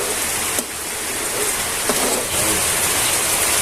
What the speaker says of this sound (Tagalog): Ulan na mga tol. Ayan, abot kami ng ulan.